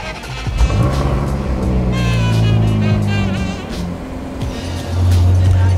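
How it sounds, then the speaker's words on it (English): A Ferrari California's engine cold-starts loudly, its deep, steady idle roar swelling and settling, then rising again toward the end, with faint high-pitched whine above the rumble. "I'll give you guys a nice little cold start of the Ferrari California."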